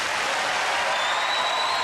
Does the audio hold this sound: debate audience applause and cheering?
yes